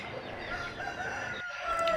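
A high-range fighting rooster, a heavy bird of about 4 to 4.5 kg offered for sale, crows once near the end, rising over steady outdoor background noise.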